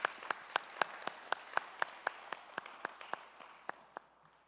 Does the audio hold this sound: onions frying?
no